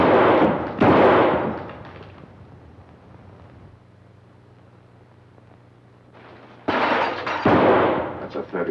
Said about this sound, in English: And you fired your last shot.